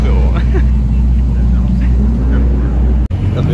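A turbocharged supercar engine rumbles loud and close beside the Eiffel Tower in Paris, a deep steady drone that holds throughout with a brief dropout near the end, and a voice speaks over it.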